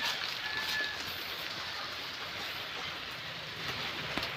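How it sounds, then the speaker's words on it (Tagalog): Steady rain falls outdoors in a continuous, even hiss with no let-up and no voices over it. "Ulan."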